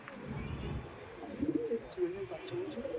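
Andhra Madrasi pigeons coo softly at a loft, a few low throaty calls close by over faint background noise.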